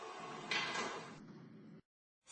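Subway train doors sliding shut on a C train in the video game Subway Testing Remastered, a close hiss and slide that thumps closed and then cuts to silence.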